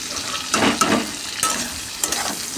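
Fried spices are stirred in a hot pan, with a close, continuous sizzle and sharp scraping clicks of the spoon at irregular intervals.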